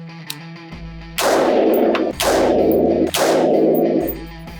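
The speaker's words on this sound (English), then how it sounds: "So fire 3 well-aimed shots at the top left button." Three loud, close rifle shots fired at a target during firearms training, evenly spaced about a second apart, each with a sharp crack and a ringing tail, heard over quiet background hum.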